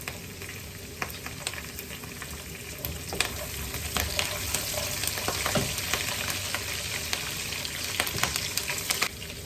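Curry leaves frying in hot oil for a chicken masala, a continuous crackling sizzle with sharp spattering pops and occasional stirring scrapes, close and fairly loud throughout.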